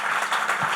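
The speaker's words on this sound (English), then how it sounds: "I think it would be nice if I could give her a clap." Audience clapping at a television show promo launch event, a brief, dense burst of applause heard alone.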